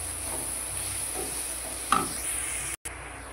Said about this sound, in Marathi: भाजी टाकून घ्यायची आणि असं मिक्स करून घ्या.